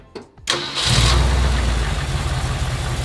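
A starter whirs briefly before a large Ford F100 truck engine catches and roars to life, then settles into a steady, loud, slightly high idle nearby.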